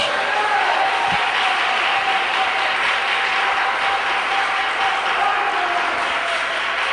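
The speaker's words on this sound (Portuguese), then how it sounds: "Dá uma salva de palmas para Jesus." A congregation's loud, sustained round of applause for Jesus at a religious gathering, a thick continuous roar of clapping that holds evenly for about seven seconds, with faint crowd voices blended underneath.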